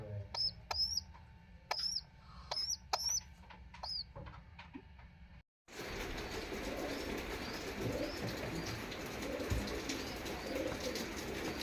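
An 11-day-old pigeon chick gives a few short, repeated calls up close in the first half, then a loud, steady rush of noise takes over for the rest.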